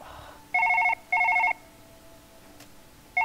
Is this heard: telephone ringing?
yes